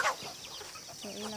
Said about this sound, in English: 22 chickens